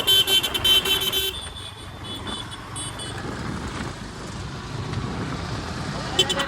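A motor vehicle approaches along a road. Horn toots sound at the start, then a continuous rumbling traffic noise follows, with voices faintly in the background.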